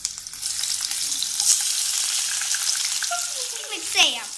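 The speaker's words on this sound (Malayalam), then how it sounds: "എണ്ണ ചൂടായതിന് ശേഷം നമുക്ക് കുറച്ച് കടുകിടാം. ഇനി നമുക്ക് കുറച്ച് സവാള ഇടയാം." Mustard seeds, then onion, sizzle in hot oil with a steady bright crackle, broken by sharp pops and stirring clatter, alongside a brief high squeak near the end.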